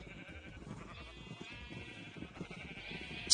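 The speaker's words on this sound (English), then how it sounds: "Was that the blue sheep? I hope that was a blue sheep." Sheep bleat in the video game Minecraft, a fairly clear series of wavering bleats over a soft background of game music.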